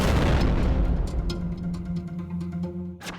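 A pure hydrogen gas explosion goes off as a loud, broadband boom that decays into a rumbling tail, with faint crackles and a short sharp pop near the end.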